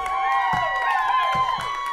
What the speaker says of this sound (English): Can I get some applause for that?